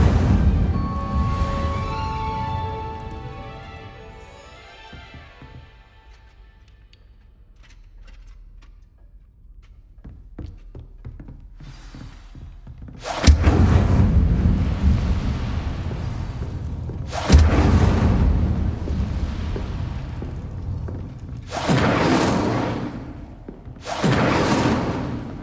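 Bursts of Incendio fire-spell casting in Hogwarts Legacy, four loud whooshing blasts about four seconds apart, following a quieter passage of music.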